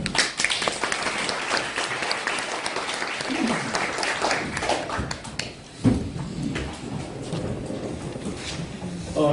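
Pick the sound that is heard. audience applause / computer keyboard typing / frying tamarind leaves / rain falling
audience applause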